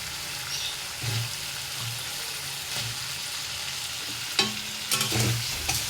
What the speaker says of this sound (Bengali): সবজিগুলো নেড়ে চেড়ে নেবো।